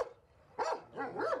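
Several dogs at a run-down animal shelter bark in two short bursts, a single bark then a quick double, fairly close and clear with no talking.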